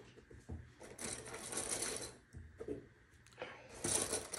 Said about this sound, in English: we're gonna top stitch at 1/8 seam allowance